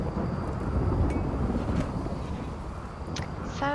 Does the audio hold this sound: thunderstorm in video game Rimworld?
yes